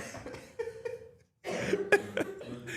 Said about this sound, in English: I had the cough